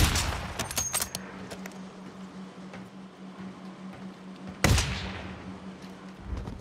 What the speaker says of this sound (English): They shooting that back there.